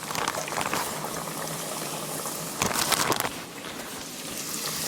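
Sheephead fish frying in hot oil, a loud, dense, steady crackle and bubbling sizzle that swells briefly midway, close and without talk.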